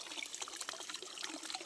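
Water sprays on a papaya farm, a soft, close, trickling hiss that runs steadily for a brief moment.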